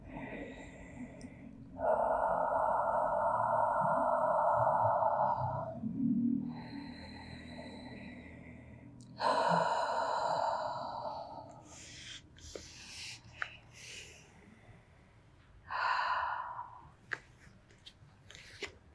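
Slow, deep breaths during a yoga stretch for aligning the neck with the spine, a few long airy inhales and exhales spaced several seconds apart, close and fairly quiet with pauses between them.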